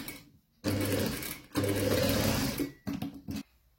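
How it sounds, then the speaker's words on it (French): A sewing machine stitching piping, running in loud rapid bursts of needle clatter with short pauses between, close and alone without talk. "Et je vais venir faire ma couture là"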